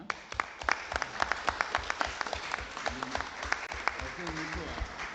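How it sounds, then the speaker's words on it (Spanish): Audience applause closing a lecture in Bolivia, a brisk run of individual claps over a busy hall, with a voice or murmured talk rising beneath it toward the end. "Un aplauso, ¿eh?"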